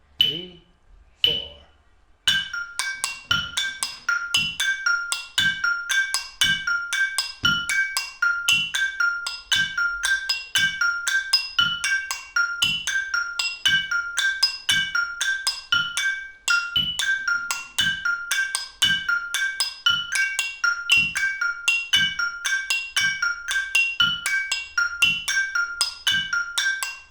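An Indonesian gamelan plays the polos part, bright metallic strikes ringing out one after another in a steady, evenly spaced rhythm, close and clear, after a brief pause at the start.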